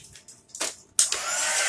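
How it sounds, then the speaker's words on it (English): A heat gun drying chalk paste on felt switches on with a sudden rush of blowing air that holds as a steady loud hiss, after a few brief bumps and handling noises. "I'm going to hit it with the heat gun one more time."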